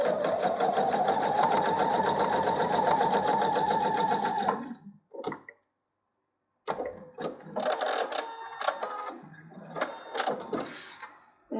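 A sewing machine runs a quarter-inch seam on a small patchwork coaster block, a loud, fast, steady mechanical stitching that stops, then gives way to close handling clatter and short bursts of movement.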